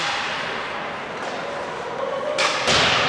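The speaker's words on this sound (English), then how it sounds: "Banged off the boards out to White Duck." A hockey puck bangs off the rink boards during an EHL game, a sharp thud late in the clip over steady arena crowd noise and commentary.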